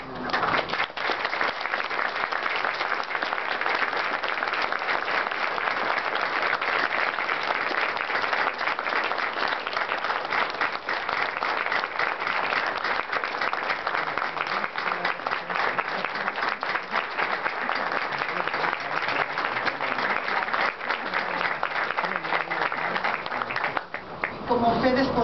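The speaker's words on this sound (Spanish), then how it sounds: "les pediría un aplauso para la maestra" An audience at a Mexican writers' dictionary book presentation gives sustained applause in honor of a late teacher, a dense, even wash of many hands clapping that runs steadily for about 25 seconds before fading slightly at the end.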